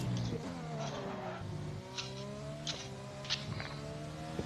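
A Formula 1 car in a racing video game brakes hard with tires locking up. A high engine whine shifts pitch through downshifts, with short squeal bursts recurring several times in a steady, close mix.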